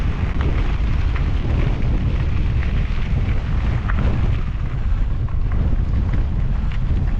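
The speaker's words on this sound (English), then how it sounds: "It's gusting." Strong gusting wind roars and buffets the microphone without a break on a mountain bike route from Whitefish to Seeley Lake, a loud low rumble with no voices.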